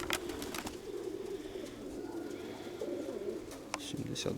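Mykolaiv breed pigeons coo softly in a flock, their repeated low, throaty calls overlapping at close range beneath some quiet talk.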